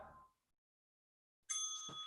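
A single workout timer bell in a bodyweight bootcamp class strikes once after a short silence and rings on with a bright, sustained metallic tone. A brief trailing bit of voice is heard just before it.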